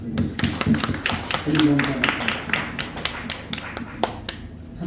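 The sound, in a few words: graduation audience applauding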